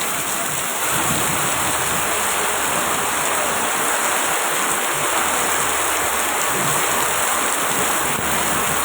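Heavy rain pours down on a road where cars pass with headlights on, a dense, loud, unbroken roar of falling water close by.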